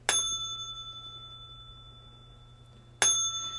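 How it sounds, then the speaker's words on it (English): A bell is struck twice about three seconds apart, each a bright, clear ring that sustains with a long shimmering decay in an otherwise quiet room. "Give me a second to ring the bell to shift off the energy"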